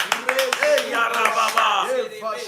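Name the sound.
congregation applauding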